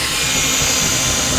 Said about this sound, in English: I shall now commence drilling into my gas field